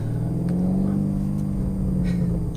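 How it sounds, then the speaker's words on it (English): A 2019 BMW M850i xDrive in sport mode rumbles through its exhaust with a loud, steady, deep drone at low speed over parking-lot speed bumps. "You can hear that exhaust already"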